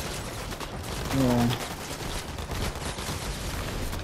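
Rapid gunfire in a Fortnite battle, aimed at a glowing weak spot, crackles in dense continuous bursts while a voice briefly speaks over it.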